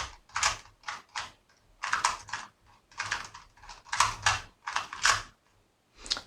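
A 2x2 Rubik's cube is scrambled with quick bursts of plastic clicking and clacking as the layers are twisted, close and fairly loud, with short pauses between the turns.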